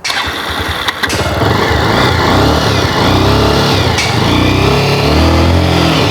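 A 2014 model motorcycle with a heavier engine than a Pulsar fires up after a brief quiet moment, then runs loud and close with a smooth, even throb and slight revving.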